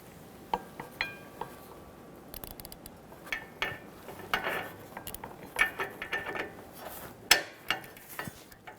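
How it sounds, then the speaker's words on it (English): A ratchet and socket turn an O2 sensor on a 2007-2017 Jeep Patriot 2.4L, giving scattered faint clicks and metallic ticks at an irregular pace, some in quick bursts. "now I'm going to get my socket. Make sure my ratchet's going the right way."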